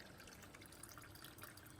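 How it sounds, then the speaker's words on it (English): Water trickles through a DIY solar-powered aquaponics strawberry growing system at dusk, a faint, continuous dribbling with soft scattered drips, heard alone and very quietly. "we have water trickling."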